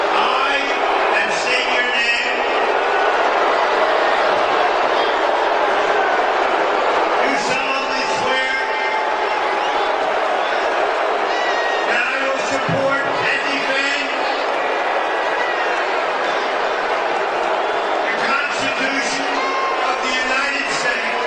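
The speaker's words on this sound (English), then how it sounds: "Donald Trump is at the Washington Commanders game. The crowd was not amused." Large stadium crowd at a Washington Commanders football game reacting to Donald Trump's appearance, a dense, steady roar of voices with swelling bursts of louder shouting that rise and fall throughout.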